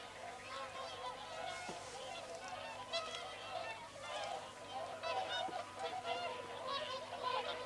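Geese, including Canada geese, honking at Martin Mere wetland, a busy flock with overlapping nasal calls repeating steadily at moderate distance.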